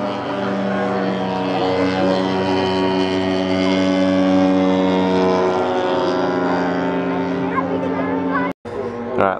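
A small propeller engine drones steadily with a strong, sustained buzzing hum, loud and close throughout, cutting out abruptly near the end before resuming.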